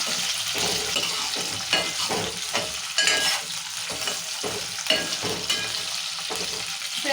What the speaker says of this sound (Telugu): జీలకర్ర మెంతులు వేగినాయి మంచిగా ఇప్పుడు మిరపకాయలు వేసుకుందాము మిరపకాయ కలుపుకుందాం ఇలా